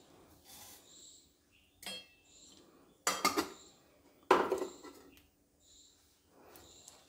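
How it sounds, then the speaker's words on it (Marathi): A spoon clinks and scrapes against a pot of boiling masala tea, with a few sharp metallic knocks and rattles between quieter stretches of faint stirring. "असं चमच्याने ढवळत राहायचं आहे."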